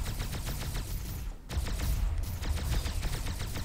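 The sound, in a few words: heavy weapon gunfire in video game Starpoint Gemini 2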